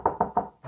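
Three quick firm knocks on a door, close and evenly spaced, followed by a softer fourth tap, with no voices.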